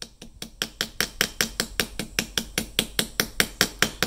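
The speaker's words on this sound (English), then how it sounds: "I like the control that this smaller hammer offers." A small hammer taps a brass pin to peen it into a Victorinox Cadet pocketknife, about four even, crisp metallic taps per second, close and clear.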